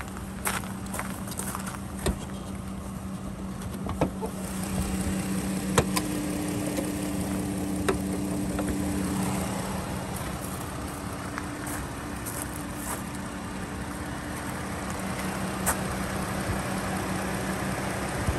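A 2020 Dodge Grand Caravan GT with a transversely mounted 3.6-litre Pentastar V6 idles steadily, a low smooth hum with a faint buzz, with scattered small clicks and knocks over it and no talk.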